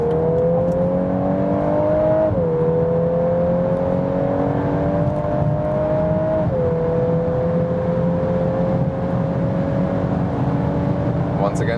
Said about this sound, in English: how's the acceleration when we are already at speed, getting out of the tunnel, 80 kilometers to whatever